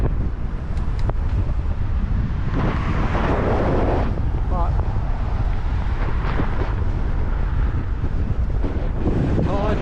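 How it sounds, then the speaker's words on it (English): Westerly wind buffets the microphone during an e-bike ride along a scenic coastal route, a loud steady rumble throughout with gusting swells. "I guess that's a westerly wind"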